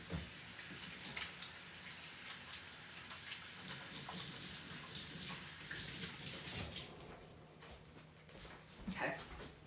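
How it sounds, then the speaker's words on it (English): Hands being washed under a running tap, a faint steady hiss of flowing water with soft splashes and drips, heard from somewhat near with no clear talk. "I'm going to go wash my hands because I did touch my hair."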